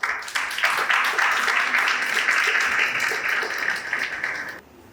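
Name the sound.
applause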